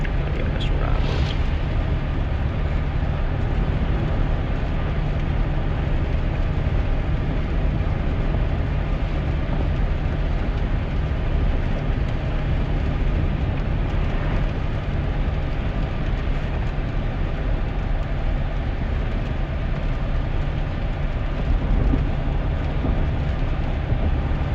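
A 2001 GMC Sierra pickup drives in rain, a steady, loud low rumble of road and engine noise with a constant hiss over it, heard from inside the cab for a long stretch.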